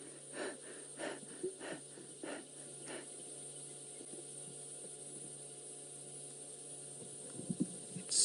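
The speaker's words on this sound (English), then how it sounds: "I can actually hear him panting." A leopard pants in quick rhythmic breathy pulses, about five in a row, faint over a low steady hum. Then they stop and only the hum remains.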